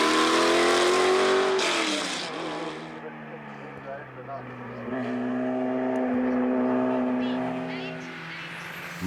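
A pre-1980 race car at speed in a hillclimb class run, its engine note sliding down in pitch after a gear change and then climbing and holding as it revs hard, with a voice talking over it.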